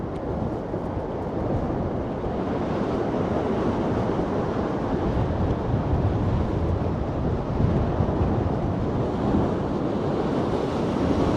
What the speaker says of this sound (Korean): 바람이 세고 파도가 세서